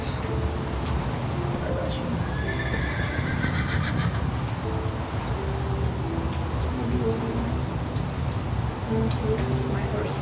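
In the Minecraft video game, a horse neighs with several whinnies over clip-clopping hooves, heard under a continuous background game soundtrack.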